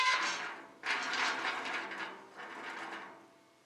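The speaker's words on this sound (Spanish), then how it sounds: "¿Te molesta el chirrido del ruido?" Squeaking mechanical noise in three drawn-out, scraping bursts separated by short gaps, faint and close, with no one speaking.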